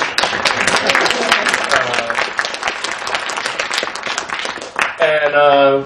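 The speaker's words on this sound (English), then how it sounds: "That's your applause cue." Studio audience applause at a live public access television reunion show, with lively, close clapping and a few cheers that fades near the end as a voice begins speaking.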